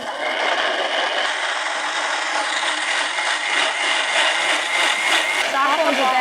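A kitchen mixer grinder blends chopped fruits, including papaya, with no water added, running as a loud, continuous whirring drone at close range for the full six seconds.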